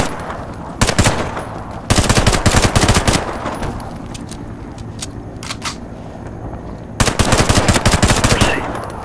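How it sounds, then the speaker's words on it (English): Submachine gun fire in the online shooter Warface: loud, close bursts of rapid automatic shots, three main volleys separated by brief pauses with a few single cracks between, no talk. "SMG is a short-range rapid-fire weapon."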